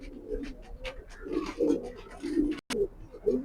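Racer pigeons coo in soft, low, repeated throaty calls close by, overlapping in an irregular rhythm with a brief break partway through.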